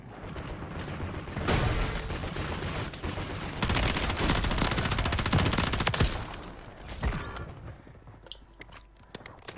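Heavy automatic weapon fire and sniper shots ring out in a Warzone Plunder match, with dense loud bursts in the middle that thin out to scattered cracks toward the end.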